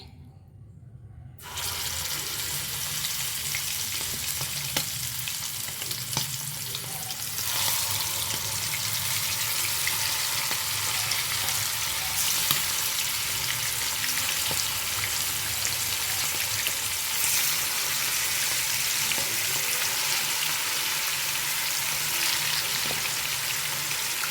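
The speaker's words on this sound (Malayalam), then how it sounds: "വെളിച്ചെണ്ണ ചൂടാക്കുന്നത് ഞാൻ ഇതിലേക്ക് ചിക്കൻ ഇട്ട് കൊടുക്കുകയാണേ." Chicken pieces dropped into hot coconut oil burst into a loud, steady frying sizzle that starts abruptly after a quiet moment and hisses on continuously, close to the pan.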